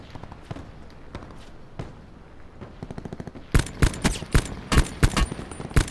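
AK rifle fire rings out in Black Ops 4, starting as faint, scattered distant shots and ending in loud, close bursts of rapid automatic fire.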